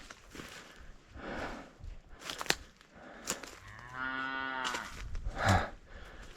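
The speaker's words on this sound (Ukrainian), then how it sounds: "навіть корова стоїть, бичок" A cow and a young bull on a village farmstead low repeatedly, drawn-out moos rising and falling near at hand, mixed with soft shuffling steps and rustling, no talk.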